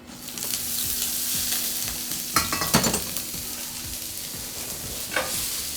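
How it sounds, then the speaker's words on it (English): Mixed vegetables stir-fry in oil in a wok with a loud, continuous sizzle, punctuated by scraping and clattering bursts as the pieces are tossed and stirred. "all of our veg can go in to stir fry for about 2 minutes"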